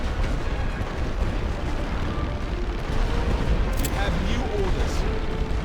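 Artillery barrage in a Great War Western Front video game, a continuous loud rumble of blasts and booms filling the whole stretch, with a voice speaking over it.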